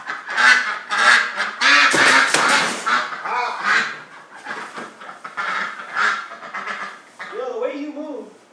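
Pet ducks in a home recovering while being given medicine, quacking and honking in repeated bursts close by, with a person talking over and between the calls.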